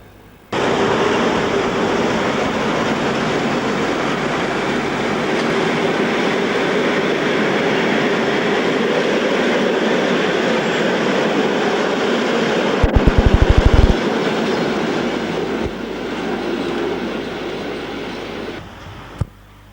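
An Italian FS series 1063 electric locomotive hauls a train through a station, a steady loud rumble of rolling wagons sustained for many seconds, with a brief burst of clattering wheel knocks before the sound drops away.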